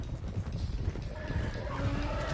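Horse hooves clip-clop in Red Dead Redemption 2 while the horses are driven along, a dense, irregular stream of heavy thuds with rumbling background.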